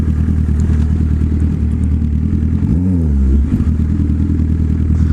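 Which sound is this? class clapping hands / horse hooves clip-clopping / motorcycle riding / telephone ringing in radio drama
motorcycle riding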